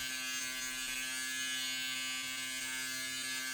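An electric shaver buzzes steadily throughout with a constant high-pitched motor hum, close and continuous, with no talk.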